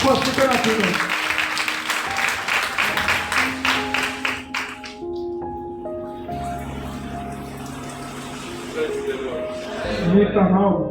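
A church congregation claps rhythmically during a Sunday worship service, dense hand-claps mixed with voices and music for several seconds before fading into sustained singing and speech.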